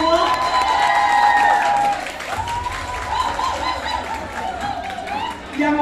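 A stand-up comedy crowd of Indonesian migrant workers in Hong Kong claps and cheers loudly, with shrill whoops and whistle-like cries rising over the applause, briefly dipping before swelling again.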